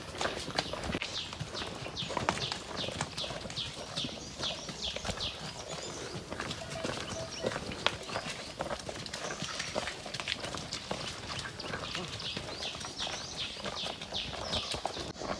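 Six water buffalo walk together along a village path toward the river, their hooves clopping in a dense, overlapping, steady rhythm at moderate distance for the whole stretch, with faint background sounds around them.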